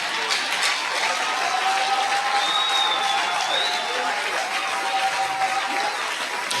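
A church congregation applauds in acclamation of the Lord, a dense, steady clapping from a large crowd that holds at full strength throughout, with faint cheering voices mixed in.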